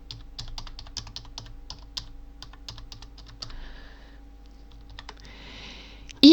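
Rapid keystrokes on a computer keyboard while entering a variable in a Scratch programming exercise, an irregular run of light close clicks with a short pause midway, then a denser burst of typing ending in a sharp louder knock.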